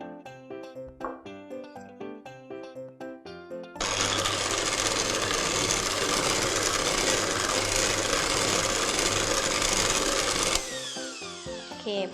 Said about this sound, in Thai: เดี๋ยวเราจะตีเนยขาวกับตัวเนยสดให้เข้ากันก่อนแล้วเราถึงจะใส่น้ำเชื่อมนะคะ